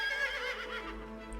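A brief, bright horse whinny with a wavering, quivering pitch, heard once in a point-and-click adventure game, Lost Grimoires, close up and clear against a quiet background.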